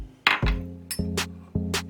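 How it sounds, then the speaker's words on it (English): Almonds tumble into the empty chamber of a MioMat nut milk maker in three quick bursts of hard clicks and clinks, each followed by a short rattle as the nuts settle, close and fairly loud. "The almonds go in first."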